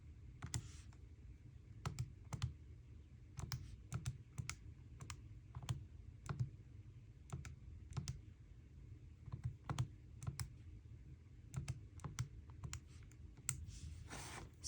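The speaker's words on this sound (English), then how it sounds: "you're just going to reach for your calculator and type it in" Numbers being keyed into a calculator: quiet, close, irregular plastic button clicks in short runs over a low steady background hum, with no talking.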